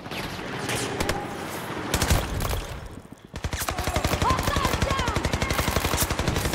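Machine gun fire in Battlefield 2042: rapid bursts of automatic shots, a brief lull near the middle, then a long steady stream of close, loud rounds.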